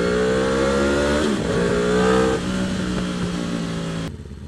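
Loud Aprilia RSV4 Factory motorcycle engine revving up through the gears, the pitch climbing then dropping at shifts before cutting off abruptly near the end, heard up close without voices.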